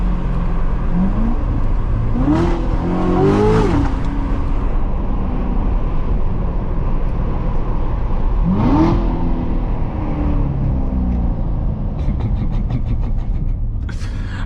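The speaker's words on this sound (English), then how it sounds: "I'm gonna downshift in, because why not?" A 700-horsepower Corvette, driven on a school run, downshifts and accelerates. The loud, close engine roar climbs in pitch through two rising revs, each dropping back at a shift, over steady road rumble with no voices.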